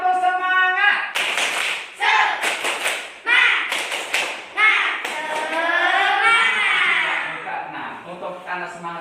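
Schoolchildren in an Indonesian classroom perform a tepuk semangat clapping chant: sharp rhythmic claps and thumps in bursts alongside loud group chanting voices, close and lively.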